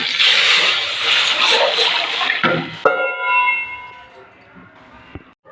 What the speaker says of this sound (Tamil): நம்ம கூட்டி வச்சு இந்த ரசம் தண்ணி எடுத்து சேர்த்துக்கலாம்.